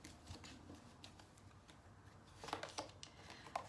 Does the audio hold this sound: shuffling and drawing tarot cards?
yes